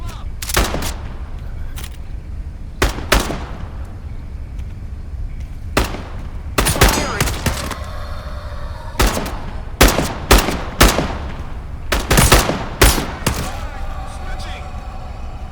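Gunfire in the video game Into the Radius 2, with sharp single shots and short bursts that come in irregular clusters across the clip, loud and close, with faint game ambience between the volleys.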